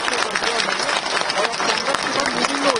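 Audience applause during an appointment letter ceremony where 444 training officers receive their letters, a steady crisp patter of many hands clapping at moderate level, with a voice speaking over the clapping.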